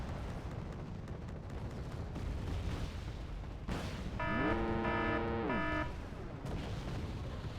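Artillery fire in the strategy game Wargame, heard as dull, rumbling booms under a dense battle soundscape, with a short tonal alert-like chime partway through.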